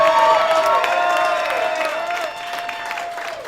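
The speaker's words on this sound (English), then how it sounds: "make some noise for Mark Mingy!" A crowd applauds and cheers loudly, clapping steady and dense, with a sustained tone ringing underneath as the noise slowly eases.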